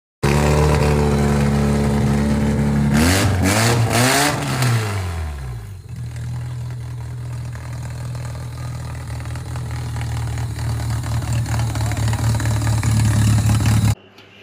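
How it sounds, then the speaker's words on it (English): Modified Toyota Camry engine with headers fitted, idling under the hood, then blipped in a couple of quick revs that rise and fall before settling into a steady, loud close idle. "I will put a video of this car running in this video."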